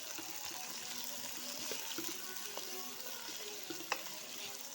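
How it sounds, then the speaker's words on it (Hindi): Ginger-garlic paste and chopped tomato fry in a pan with a steady, close sizzle, while light stirring scrapes and clicks run through it and one sharper knock lands near the end. "अब इसको फ्राई करेंगे।"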